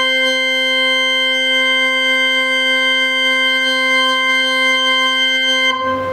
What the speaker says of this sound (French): quand on utilise le son d'orgue, c'est souvent ce son qu'on utilise